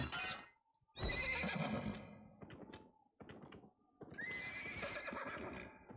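A video game horse whinnies repeatedly in loud, shrill bursts separated by short pauses, with some hoof clatter mixed in, close and without talking.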